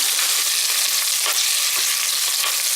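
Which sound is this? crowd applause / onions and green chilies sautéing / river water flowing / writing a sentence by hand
onions and green chilies sautéing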